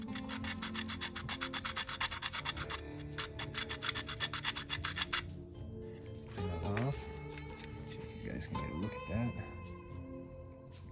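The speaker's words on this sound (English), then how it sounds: "stone the face of this, smooth out any burrs that might have been there when it got stamped out" Sharpening stone dragged in steady repetitive rasping strokes across the face of a stamped HK Mark 23 pistol magazine to smooth burrs, close and dense for about five seconds, then stopping as a voice talks over quieter handling noise.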